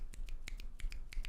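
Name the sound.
finger snapping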